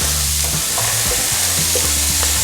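Onion, carrot and celery hit rendered beef fat in a hot pan, producing a loud, close sizzle with scraping stir strokes throughout.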